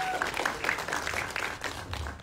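Media crowd at a Jakarta-style press gala for the Indonesian horror film Qorin applauding, a dense patter of many hands clapping at moderate loudness with some voices mixed in.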